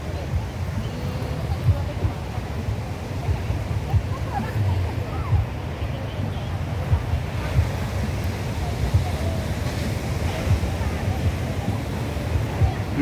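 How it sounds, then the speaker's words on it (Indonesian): Night surf rolls steadily onto Muaro Padang beach as a constant broad wash of waves with wind rumble. Voices murmur over it throughout. "Menikmati suasana Pantai Muaro Padang di malam hari"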